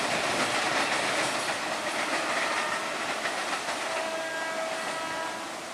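A commuter train pulls into Rawa Buntu station with a loud, steady rumble and rail noise that dominates throughout, easing off slightly near the end.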